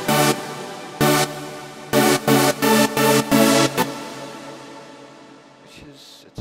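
Big layered synth chords in an anthem sound, struck in a rhythmic pattern of loud sustained stabs, then a long fading tail with a brief faint sound near the end.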